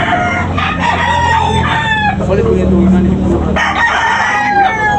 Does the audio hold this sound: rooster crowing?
yes